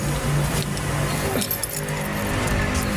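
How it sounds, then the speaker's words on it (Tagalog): Keys picked up and jangling, with light metallic clinks over a steady background hum of a vehicle or engine nearby, no talking. "Kunin lang natin ang susi"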